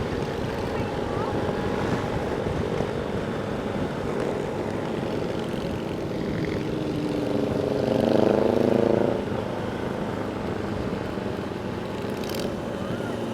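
On a road near Km 90 in Infanta, Quezon, engines drone steadily under wind rush, with one motorcycle's roar swelling louder as it passes close, then fading back.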